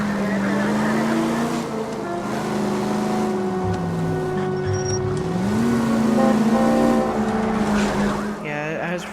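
A car cruises through 1940s Los Angeles in L.A. Noire, its steady engine drone rising and falling in pitch with a few shifts, loud and continuous throughout.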